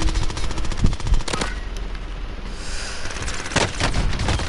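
Gunfire in the Warzone video game on PS4: close, loud rapid automatic bursts at the start and a few sharp single shots later, set over steady game ambience, with no talk.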